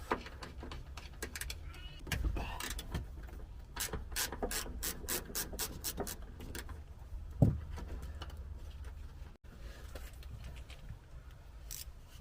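A ratchet spinning bolts off a Honda CRX during teardown for restoration, quick bursts of clicking repeated close by, with a loud metallic clunk midway and a pause before more clicks.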